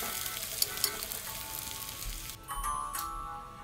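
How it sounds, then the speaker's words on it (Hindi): Sliced onions and bay leaves fry in oil on a high flame, giving a quiet, steady sizzle with a few faint clicks early and louder hissing bursts toward the end. "प्याज को हमें हाई फ्लेम पे गोल्डन ब्राउन होने तक फ्राई करना है"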